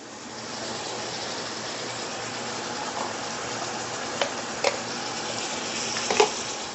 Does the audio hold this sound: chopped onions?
yes